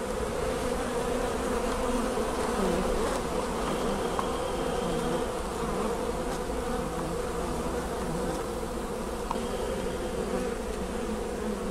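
Honeybees buzzing at an apiary in northern Hungary in early spring, a dense continuous drone from many insects close by, steady throughout with no voices.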